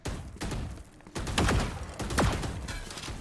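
Killjoy's swarm grenade in Valorant detonating in a quick cluster of popping bursts, two louder whooshing blasts standing out near the middle, close and punchy with little else around.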